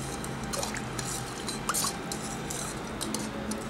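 Spoon stirring panakam, a drink of jaggery water with lime juice, dry ginger powder and salt, in a vessel; soft scraping clinks and liquid swirling at a steady low level, close and alone.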